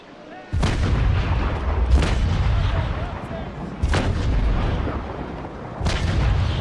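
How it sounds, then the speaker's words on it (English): Naval Action video game cannons firing chain shot: four heavy booms spaced about one and a half seconds apart, each a deep blast that rumbles on until the next, close and loud. "Let's fire these chains. Chain shot."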